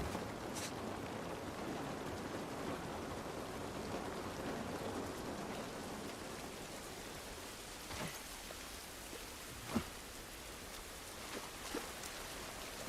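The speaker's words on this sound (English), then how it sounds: "This rain ain't gonna do us any good." Steady rain hisses in The Last of Us Part I, a constant wash of falling water with a few sharper drips and taps standing out near the end.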